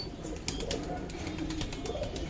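Silver Giribaz pigeons at a farm coo softly in low repeated burbles, close by, with faint clatter and no talking.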